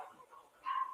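A neighbour's dog gives a couple of faint, distant barks and yips, a brief, quiet sound with no talking.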